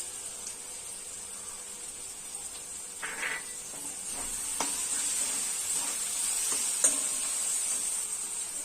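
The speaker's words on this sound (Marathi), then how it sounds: "आता आपण ह्याच्याने अद्रक आणि लसूणची पेस्ट घालूया." Ginger garlic paste fries quietly in a pan with peas for stuffed cabbage rolls, a faint steady sizzle with a few soft stirring scrapes and light taps.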